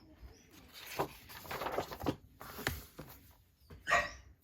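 A small dog barks a few times at a distance in a quiet indoor setting, with short sharp yaps spread across several seconds amid faint background rustling.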